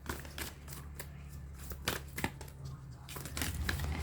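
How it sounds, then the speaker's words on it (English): A deck of cards is shuffled by hand, with quick riffling bursts and soft flicks, fairly close and fairly quiet. "let's still shuffle because too many cards were trying to come in"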